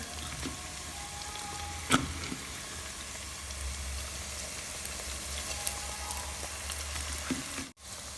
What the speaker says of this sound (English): And then I go ahead and add garlic.